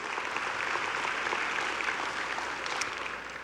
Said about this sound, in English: can we give a round of applause for these folks?